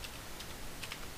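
Computer keyboard keys pressed while working a League of Legends replay, several soft, quick taps scattered over a second, faint against a steady background hiss.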